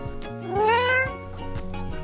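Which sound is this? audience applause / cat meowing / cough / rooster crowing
cat meowing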